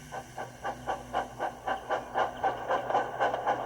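A steam train chugging along, rhythmic puffs of steam in an even, steady beat with a soft background rumble.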